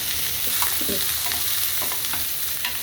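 Carrots stir-fry in a pan for egg fried rice, giving a steady close sizzle broken by repeated scraping stirs, with no talking.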